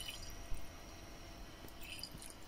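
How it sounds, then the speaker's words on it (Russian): Water dripping in a homemade Kelvin dripper electrostatic generator, faint and quiet, with a soft continuous trickle and a couple of small drip splashes over low background noise. "А вот вода настолько сильно стала разъединяться, что стала выплескиваться вот мимо"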